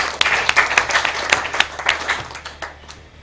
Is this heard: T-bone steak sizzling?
no